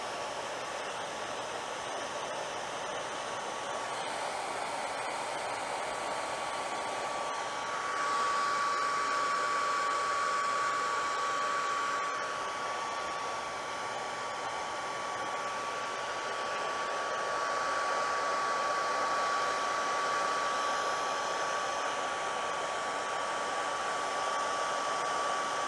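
A hair dryer blows steadily while heating a paintball goggle lens to re-mold it, a continuous airy whir with a slight pitch shift partway through, alone without speech.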